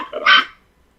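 Dog barking close by indoors, a short burst of two or three quick yaps within about half a second, then quiet.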